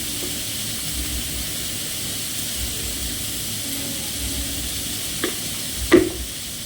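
Salted potatoes and vegetables cook in a pot with a soft, even hiss of simmering, broken near the end by a couple of brief knocks.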